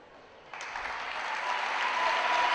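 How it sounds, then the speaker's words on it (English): High school girls basketball crowd in a gym breaking into applause and an ovation for a player fouling out, starting abruptly and swelling steadily louder and denser. "gets an ovation from the Centennial crowd"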